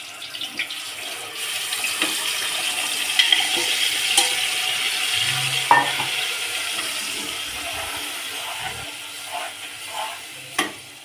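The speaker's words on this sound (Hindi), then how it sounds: "तो मैं इसको अच्छे से भून लेती हूँ" Steady crackling sizzle of food frying in hot oil for Hyderabadi pasinde, with occasional clinks and stirring sounds, close by and with no talking.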